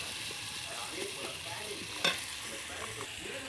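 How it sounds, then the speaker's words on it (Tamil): Tomatoes sautéing for a village-style mushroom curry: a soft, steady sizzle in the pan with light stirring and one brief sharp clink of utensil on metal midway, quiet and close, no speech. "தக்காளி நல்லா வணங்கிருச்சு பார்த்தீங்களா எப்படி வணங்கிருக்குதுன்னு"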